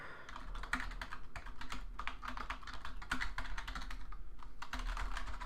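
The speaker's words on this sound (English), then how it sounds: "Just gonna spam my keyboard" Rapid, continuous clatter of keys being typed on a computer keyboard, close and fairly loud, with bursts of mashing and no talking.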